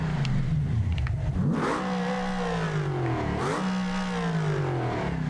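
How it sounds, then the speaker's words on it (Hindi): A car engine in the BeamNG driving game revs loudly and continuously, pitch climbing and dropping in two sweeping surges, with nothing else over it. "गाड़ी का इंजन काम कर रहा है नो डाउट, बट वो इंजन टायर को पावर नहीं दे रहा"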